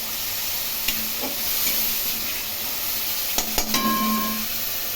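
A spice paste of cumin, dried and green chilli, garlic, onion and ginger fries in a pan for a prawn and taro curry, giving a steady sizzle with a few sharp utensil clicks near the end.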